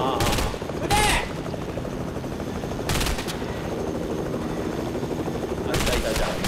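Gunfire in the video game Fortnite: a few short sharp bursts of automatic shots spread over several seconds against a steady game background, with people talking excitedly between the volleys.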